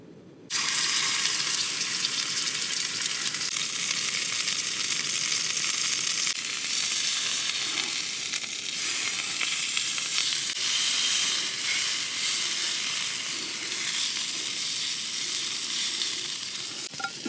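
Lamb sizzling in oil in a pan, cooked inside a tent, with a loud, constant hiss of frying that fills the whole stretch close to the microphone.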